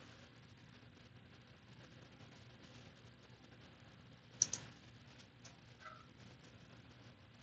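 Quiet, steady typing on a computer keyboard while entering a terminal command and password, with a brief louder cluster of key clicks midway and no speech.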